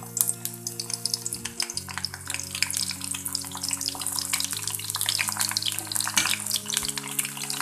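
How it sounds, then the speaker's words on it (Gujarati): Brinjal pieces fry in hot oil in a kadai, giving a steady close crackle and sizzle with irregular popping spatters, while a low background hum shifts pitch now and then under the frying. "એક સાઈડથી થોડા તળાય એટલે રીંગણને આપણે બધી જ બાજુથી તળીને તૈયાર કરી લઈએ"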